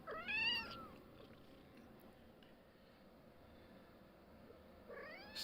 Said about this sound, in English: So, those are Mural's kittens, and this, of course, is Mural, the mom